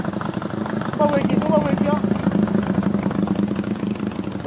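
A motorcycle engine with a new GRS exhaust idling close by, a steady low throbbing burble with slight rev bumps, while someone talks over it.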